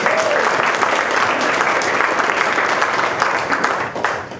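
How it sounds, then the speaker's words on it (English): Loud, dense applause from an audience at a candidate forum for county commissioner, sustained clapping close up that holds steady for about four seconds before beginning to fade. "give her a round of applause as well."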